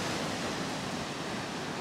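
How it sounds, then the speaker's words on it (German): Sea waves wash onto the shore at a beach campsite in Balerma, Andalusia, on a calm day, a continuous broad roaring surf at moderate level with no distinct single break. "Ich weiß jetzt gar nicht, wo die Wellen herkommen."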